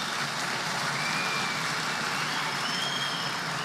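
An audience at a defence-industry event applauds as the Roketsan general manager is invited onto the stage, producing a dense, continuous patter of many hands clapping at an even level.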